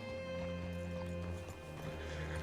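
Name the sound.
horse hooves in video game Red Dead Redemption 2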